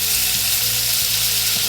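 Four tablespoons of butter melting in a pan, a loud, steady, bright sizzle throughout with no talking.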